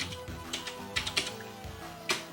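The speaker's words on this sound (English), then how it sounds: "this supports a regular QWERTY USB keyboard like this" Keys on a QWERTY USB keyboard plugged into an A500 Mini retro computer clatter in a short, uneven burst of faint, close taps, with no voices.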